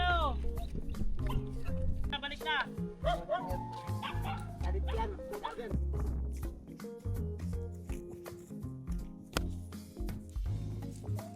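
A dog barks repeatedly and lets out yips and whimpers, close and fairly loud, in bursts over about eleven seconds on rural farmland, with people talking in between.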